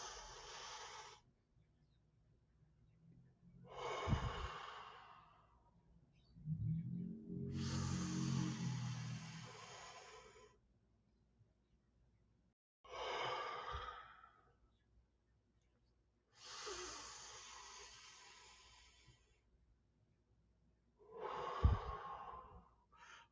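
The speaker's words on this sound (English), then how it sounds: "So let's go ahead and breathe 3 times" Slow, deep breaths during a guided breathing exercise, several long airy inhales and exhales, each followed by a pause, close and quiet.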